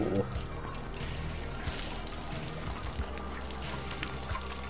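Water pouring to water plants in the video game Road 96, a continuous soft splashing trickle with faint voice-like sounds in the background.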